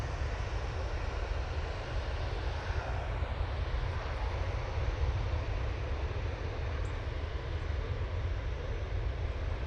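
A Ryanair airliner comes in to land at Manchester Airport, its broad, steady jet roar and low rumble holding evenly at close range throughout.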